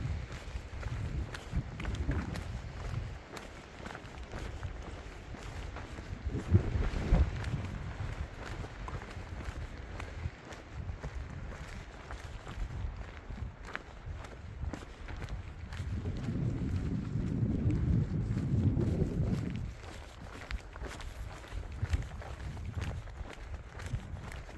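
Wind buffets the microphone on a mountain trail of the Continental Divide Trail, a rough steady rumble with a stronger gust midway, while footsteps tread underneath throughout.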